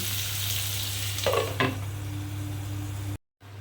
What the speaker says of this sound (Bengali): এবারে কমিয়ে বাড়িয়ে ঢাকা দিয়ে আমি মিনিট তিন চার ধরে এটাকে ভাজা ভাজা করবো